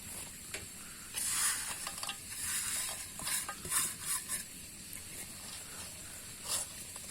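Jaggery goes into a hot pan for a Sankranti sweet and is stirred, giving faint sizzling and scraping strokes that rise and fall in irregular bursts, with no talking.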